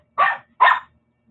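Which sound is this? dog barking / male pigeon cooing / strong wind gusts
dog barking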